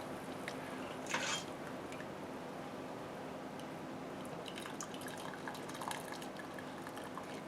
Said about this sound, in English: I'm going to fill the rest of the jar with the liquid, leaving 1 inch of headspace.